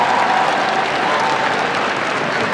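A crowd at a college hooding and diploma ceremony gives the graduates a loud, steady round of applause, close and continuous from start to finish.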